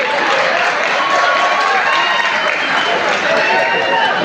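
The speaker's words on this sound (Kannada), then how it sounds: "ಒಂದು ಸರಿ ಜೋರಾದ ಚಪ್ಪಾಳೆ ಒಂದಿಗೆ ನೀವೆಲ್ಲ ಅಭಿನಂದಿಸಬೇಕು" Loud, dense applause from a large audience at a North Karnataka Kannada comedy show, sustained and steady throughout with crowd noise mixed in, no pauses.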